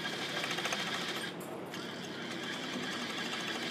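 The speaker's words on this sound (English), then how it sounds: "I'm trying to sew with one hand." Close, continuous whir of a sewing machine stitching gauntlet cuffs for a Planet of the Apes costume, with a short dip in the motor noise midway before it steadies again.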